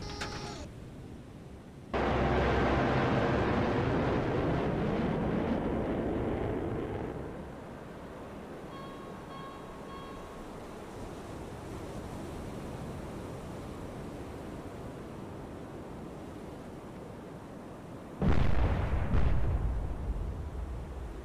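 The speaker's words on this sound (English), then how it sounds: "Fire missile." A submarine missile launch in the naval warfare game Cold Waters booms as a sudden loud roaring rush that holds for several seconds, fades to a low rumble, then a second heavy burst erupts near the end.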